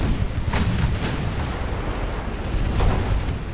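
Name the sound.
naval gun shells landing in video game Ultimate Admiral: Dreadnoughts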